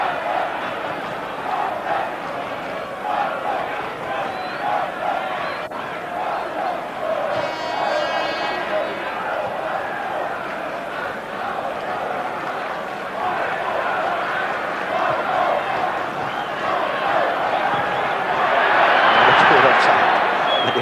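A large stadium crowd roars steadily at a 1988 Malmö FF versus Djurgårdens IF football match, swelling into louder cheering near the end, while a commentator talks over it.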